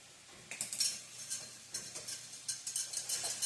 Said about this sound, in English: I'm just using my toy mixer.